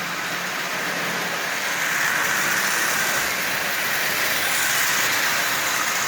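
A prewar Marx Canadian Pacific toy train, freshly oiled and running at half power, gives a steady, even rumbling whir that holds at one level without a break.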